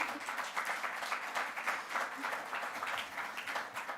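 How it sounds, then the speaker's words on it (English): Steady applause from a conference audience, dense clapping that holds at an even level for several seconds with no voices on top. "That deserves some applause, ladies and gentlemen."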